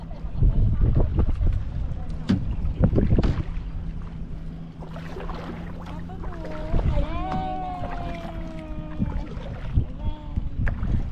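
Paddles dip and splash as a small boat moves through a mangrove forest in Phuket, with close, irregular strokes while people talk and laugh nearby.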